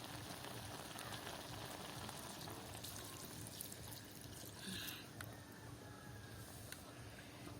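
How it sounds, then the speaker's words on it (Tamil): First-press coconut milk poured into a simmering okra curry in a village kitchen, a steady wash of liquid splashing and trickling throughout, fairly loud and continuous with no one talking. "முதல் பாலை விடுவோம்."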